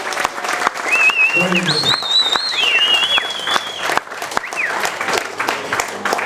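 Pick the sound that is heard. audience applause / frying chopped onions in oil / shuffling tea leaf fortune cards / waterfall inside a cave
audience applause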